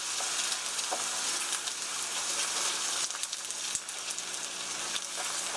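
Egg and green onion batter sizzles in a hot pan over low heat, a steady close crackle with small pops and light stirring scrapes, no talking over it.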